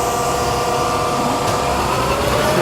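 The spindle of a Hardinge HC5401T engine lathe, fitted with a collet chuck and a three-jaw chuck, runs at 3,000 RPM, producing a steady, loud mechanical whine and hum that stays even throughout.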